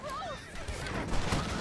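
Horses in the Red Dead Redemption video game neigh with rising and falling whinnies over galloping hooves and gunfire, while someone talks throughout.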